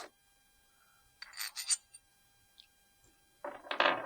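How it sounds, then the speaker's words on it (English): A metal washer being fitted onto the screw of a corner angle clamp, heard as a few short close metallic clinks and scrapes separated by quiet gaps. "Put your washer on,"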